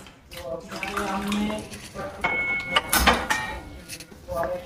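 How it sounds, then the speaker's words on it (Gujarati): A short splash of water pouring into sugar in a pan for syrup, with clinks of utensils and a voice talking over it. "એની અંદર આપણે થોડું એવું પાણી નાખશું"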